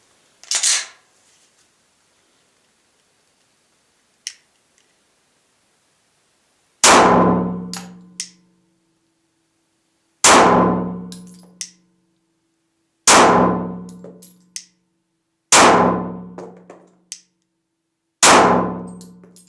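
Glock 26 pistol fitted with a Glock 19 barrel firing at a range target: five sharp, loud single shots spaced a few seconds apart, each with a short decaying ring, plus a few faint clicks early on.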